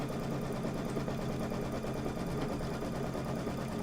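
A sewing machine stitching fabric on a quilted table topper, a loud, continuous mechanical whir with a fast, even needle rhythm close by, running alone without pause.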